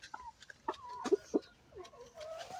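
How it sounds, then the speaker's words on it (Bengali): Chickens feeding on scattered grain in a backyard coop, several short clucks and soft calls in an irregular sequence, fairly close, with a faint low background hum. "এই যে মাসাল্লাহ মুরগি ঠিকমতো খাবার খাচ্ছে"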